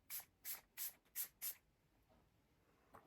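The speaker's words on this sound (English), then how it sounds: "I'm gonna use the Hard Candy Look Unlock setting spray" Five quick, close puffs of Hard Candy Look Unlock setting spray misted in an even rhythm, followed by near silence and a faint click.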